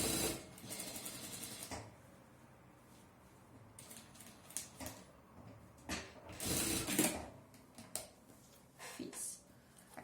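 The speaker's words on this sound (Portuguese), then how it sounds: "nós vamos puxar aqui a manta e passar a costura no forro" A sewing machine runs in bursts while stitching the fabric lining of a fabric pouch, with short whirring runs separated by pauses and small mechanical clicks of handling.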